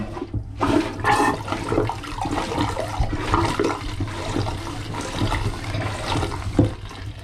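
A marine toilet on a boat pumps and flushes, water gurgling and rushing steadily with rhythmic churning, close and fairly loud, no voices.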